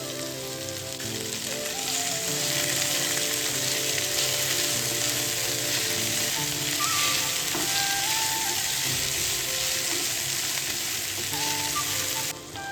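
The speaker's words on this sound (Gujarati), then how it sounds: "આપણી બધી સબ્જી છે ને સરસ સતરાઈ ગઈ છે." Capsicum, carrot and peas sauté in a hot pan for a Gujarati bhaidku dish, giving a steady, loud, close sizzle with faint scraping stirs throughout and no talking.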